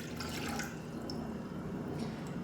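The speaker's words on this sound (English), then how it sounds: "I'm going to start by pouring our 2 cups of water into our saucepan" Water pours into a saucepan on a kitchen stove, a steady splashing and trickling stream that runs continuously at moderate volume, with no talk over it.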